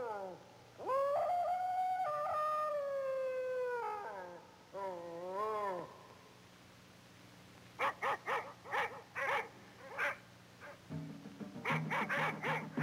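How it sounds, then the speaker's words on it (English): A dog in an old film howls in long wavering cries, then barks in a rapid series of sharp yaps alongside other animal-like calls, fairly close and loud, with no talking. "there goes the dog."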